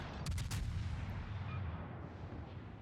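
Naval guns on a warship in World of Warships let loose a broadside, a heavy cluster of booming shots in the first half-second followed by a rolling low rumble that fades out.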